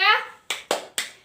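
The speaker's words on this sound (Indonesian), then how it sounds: "Sekarang kita tepuk PPK." Schoolchildren perform a rhythmic PPK clapping chant in a classroom: a voice calls out, then three sharp, evenly spaced group claps ring out close and loud.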